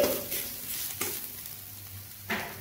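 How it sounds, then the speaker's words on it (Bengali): Turmeric and cumin powder stirred in a frying pan, a soft steady sizzle with a couple of faint scraping strokes and no voices. "একটু এইভাবে নেড়ে নিচ্ছি, মিশিয়ে নিচ্ছি"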